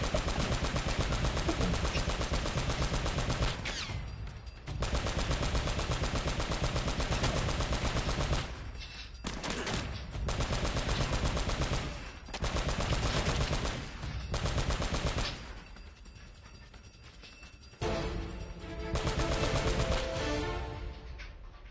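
Machine-gun fire from a gunner in the action game Uncharted: loud, sustained bursts of rapid shots broken by brief pauses, with a quieter spell toward the end before the firing resumes.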